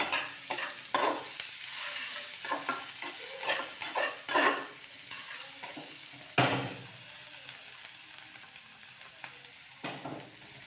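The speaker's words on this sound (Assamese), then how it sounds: "তেতিয়া ইয়াত অলপ নিমখ দি ইয়াত আমি অলপ লৰাই দিম।" Salted chicken frying in a pan, stirred with a spatula in a series of scraping strokes over a soft, continuous sizzle, fairly close by. Quieter stretches fall between the strokes, and no one talks.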